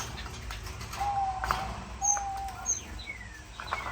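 Pet owl finches give thin, short chirps and a few clear whistled calls, close and fairly faint, scattered over a quiet room background with no talk.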